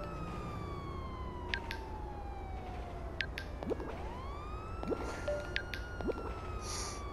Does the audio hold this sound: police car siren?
yes